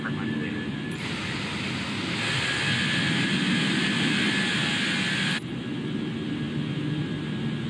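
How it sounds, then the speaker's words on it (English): Simulated airliner climbs out after takeoff from Newark in Microsoft Flight Simulator 2020, a steady jet engine roar. The roar brightens partway through, then drops back to a duller rumble near the end. "United 1010 airborne, passing altitude 500 feet."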